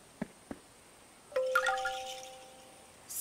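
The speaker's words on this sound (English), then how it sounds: "Is Zebby's doorbell broken? No. It's just too quiet" A quiet cartoon doorbell in an animated children's Christmas show gives a couple of soft taps and then a gentle, ringing two-note ding that fades away.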